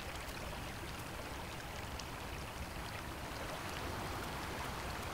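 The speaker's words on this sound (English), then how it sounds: "A river is in the way." A river flowing in northern snowy owl country: a steady, dense rush of moving water with no breaks, constant and fairly full, with no voices or other sounds.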